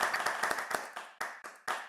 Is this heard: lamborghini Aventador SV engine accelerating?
no